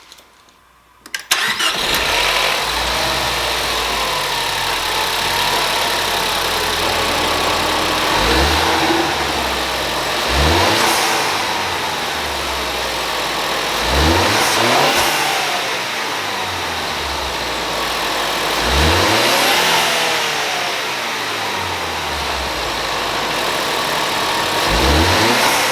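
A stock 2016 Ford Focus ST engine starts, then idles steadily and is revved several times, each rev climbing and falling back, loud and close with no talk.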